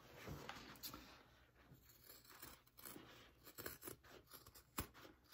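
Scissors trim fabric lining for a crossbody bag, making faint, close snips and slight cloth rustles at an uneven pace, with no one speaking.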